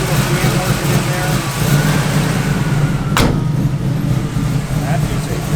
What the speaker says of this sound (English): Hear that nasty little fan working in there.